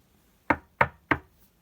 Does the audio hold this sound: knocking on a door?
yes